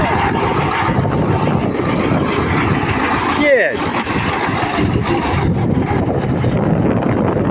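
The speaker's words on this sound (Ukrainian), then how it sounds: "Трактор також саморобний." A homemade tractor's steady, rough engine drone runs throughout, loud and close, with wind buffeting the microphone and a brief change in pitch midway.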